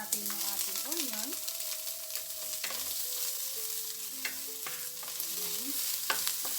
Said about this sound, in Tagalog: idagdag at isisotay natin yung ating onion